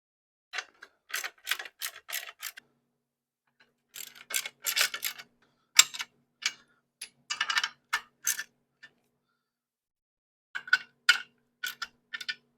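Ratchet wrench snugging down clutch pressure plate bolts on a McLeod Super Street Pro clutch and flywheel for a GM LS 6.0 engine, heard as several bursts of quick, close clicking separated by short pauses.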